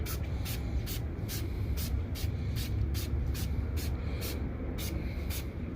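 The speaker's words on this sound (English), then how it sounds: "I'm spraying a lot on here." Rapid, steady pumps of a spray bottle hissing in even rhythm as cleaner is sprayed onto the wheels of a 2020 Subaru Outback to remove glue, over a constant loud background rumble, close by.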